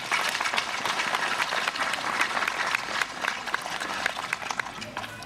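Audience applause at a book launch event in Choryń, a dense, steady wash of many hands clapping at moderate volume throughout, with no gaps.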